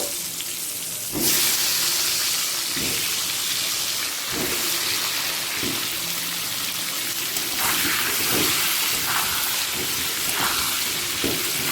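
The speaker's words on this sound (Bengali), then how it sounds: "আলুগুলোকে তেলে ভেজে নেব" Loud, continuous sizzling of potatoes with turmeric frying in hot oil, with occasional stirring knocks and bursts of crackle throughout, no talking.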